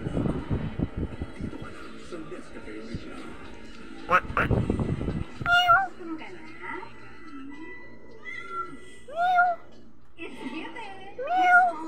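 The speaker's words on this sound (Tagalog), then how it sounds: "Ang mga pusa ko." A cat meows several times, clear and close, after some rustling and handling noise, with a faint low hum underneath.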